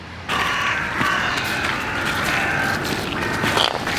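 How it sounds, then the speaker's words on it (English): Several birds call and squawk nearby in a busy, overlapping chorus, with harsh creaky calls standing out over steady outdoor background noise. "There's a lot of bird activity going on here"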